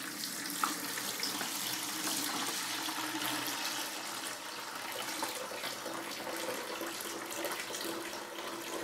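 Settled water from a bucket of wall filler being poured off the top, a continuous faint splashing trickle that runs steadily throughout with no talk.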